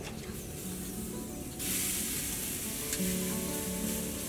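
Pork tenderloin sizzles on a PK grill, a steady close hiss that jumps louder partway through and holds, with faint crackles and no talk.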